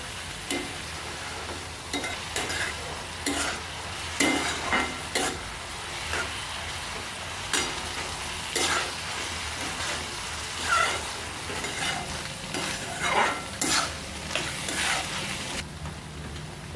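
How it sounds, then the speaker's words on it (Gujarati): Ginger garlic paste sizzles in hot oil for a gravy Manchurian, under a steady crackle, while a spoon repeatedly scrapes and clatters against the pan, close up with no speech. "આદુ લસણની પેસ્ટ નાખી દઈશું આપણે એને પણ આપણે મિક્સ કરી નાખશું"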